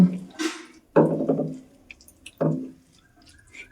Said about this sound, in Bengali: সাবুটাকে প্রথমে আমি একটু জল দিয়ে ধুয়ে নেব